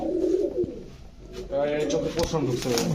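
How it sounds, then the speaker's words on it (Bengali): Jhak Gola pigeons coo in close, repeated rolling calls, with a person talking over and between them. "দর্শক এটা হচ্ছে পিওর ঝাঁক গলা কবুতর"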